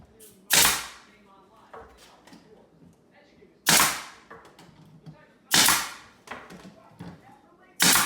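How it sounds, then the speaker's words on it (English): Fourth of July fireworks pop outside during home renovation work. Four loud, sharp bangs come at irregular intervals with fainter clatter between them. "I apologize ahead of time for all the popping in the background, but I can't do nothing about the fireworks"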